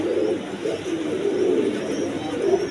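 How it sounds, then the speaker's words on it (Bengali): Pigeons of many breeds cooing in a crowded loft, overlapping soft low coos that repeat in a continuous, close murmur. "আমার ঘর ভরা কবুতর। এই দেখেন ঘর ভরা, চতুর্দিকটা আছে কবুতর"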